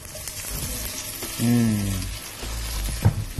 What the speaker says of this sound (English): So at this point, we're just going to saute it around a little bit.